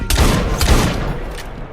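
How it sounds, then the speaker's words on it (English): Rapid burst of loud gunshots in Assassin's Creed Syndicate, several sharp close cracks fired in quick succession with a booming tail, no speech. "I just shot a cop 10 times"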